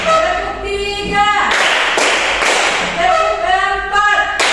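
A class of children claps in a counted rhythm, with several short bursts of loud group clapping in the middle. A voice leads them before and after the clapping.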